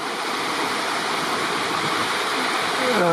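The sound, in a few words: small waterfall beside an old overgrown forest road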